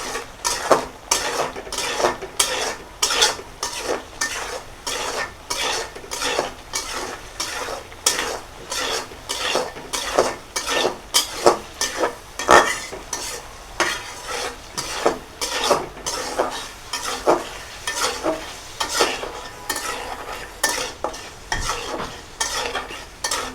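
Potatoes are stirred and fried in a pan over medium heat, a spoon scraping and clattering against metal in a quick, repetitive rhythm over a constant soft sizzle, close and unaccompanied by talk.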